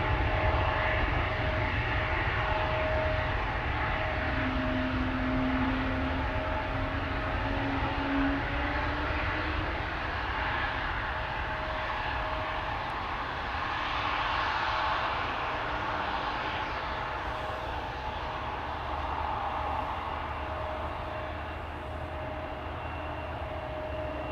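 An airliner departs Amsterdam Schiphol Airport, its jet engines a broad, steady roar that holds loud and close for the whole stretch, no voices over it.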